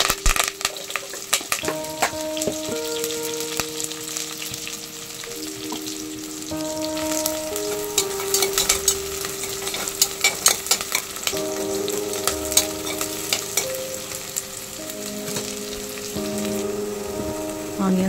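Sliced onions, green chillies and curry leaves fry in hot oil for a palak mushroom pulao, a steady close sizzle broken by frequent scraping stir clicks from a spoon against the pan, with no voices.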